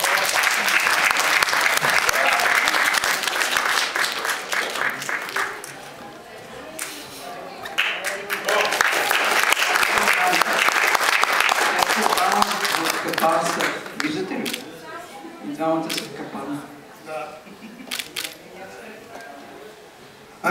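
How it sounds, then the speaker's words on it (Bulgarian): Loud, sustained audience applause for an award presentation at a theatrical ball event fills the first half, then fades into scattered claps as voices begin speaking over it. "Аплодисменти!"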